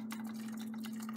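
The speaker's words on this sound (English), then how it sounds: "And then I just kind of pour it in there." Hot broth is poured over noodles in a home kitchen, a short, faint splash of running liquid under a steady low hum, with no talking.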